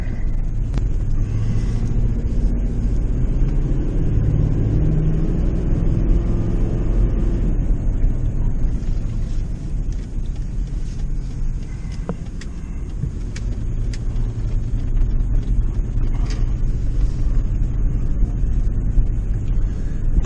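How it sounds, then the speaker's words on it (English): A parked fire truck idles with a heavy, low rumbling engine, swelling into a louder rev partway through before settling back to a steady drone, close and continuous with no talk. "Maybe they're just warming up the motor."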